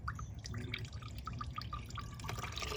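Gray waste water drains from a 2022 Winnebago Travato 59KL's waste valve, trickling steadily with small drips and gurgles, a low rushing flow underneath, fairly quiet and close.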